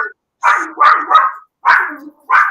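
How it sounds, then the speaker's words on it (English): A dog barks at people arriving at a home, giving several loud, close barks in bursts with short pauses between them. "We'll just ignore the dog for a minute."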